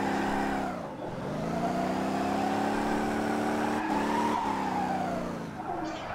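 A car drifting in the Motor Town driving game, its engine revving steadily while the tires squeal continuously for several seconds, loud and close, with a brief dip and a rising pitch near the end.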